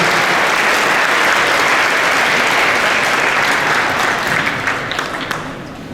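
A ceremony audience at a winter festival coronation gives sustained, loud applause that stays dense for several seconds, then thins slightly toward the end.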